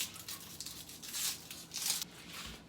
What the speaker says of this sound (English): I'm gonna peel the onion,